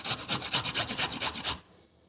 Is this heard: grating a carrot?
yes